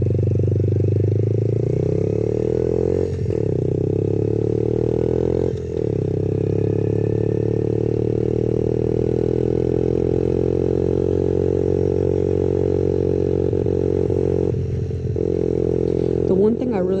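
A clutchless 50cc motorcycle engine runs close by with a steady buzzing drone whose pitch slowly rises and settles, with a few brief dips in the sound.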